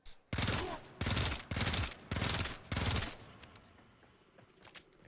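Rakta Ballistica shots fired in Warframe: five loud, sharp bursts in a steady rhythm, each a broad crack with a short tail, then quieter scattered clicks and ambience.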